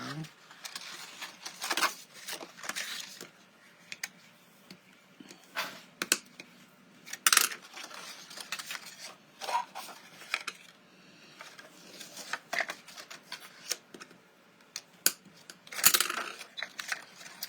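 Hands folding and creasing a paper pop-out card with a winged panel, giving scattered crisp crackles, rustles and sharp taps that come in irregular bursts close up, with no voice.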